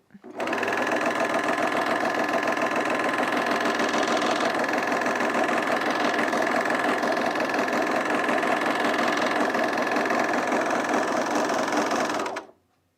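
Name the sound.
serger sewing machine running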